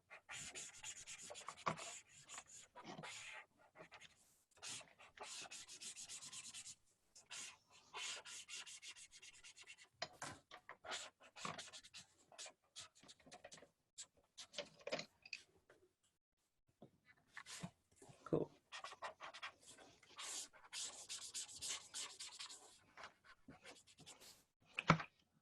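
Pen scratching and scribbling on paper while writing and drawing, with irregular bursts of rubbing strokes separated by short pauses, close and faint, alone without voices.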